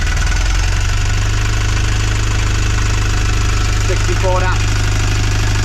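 A sailing boat's engine runs loud and steady with a deep, even throb, holding constant as throttle is added, while a person speaks briefly over it.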